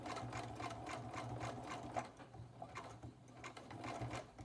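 A sewing machine stitches nylon tape with upholstery thread for scuba weights, a fast, even mechanical clatter of needle strokes, quiet but steady and clear with no talk.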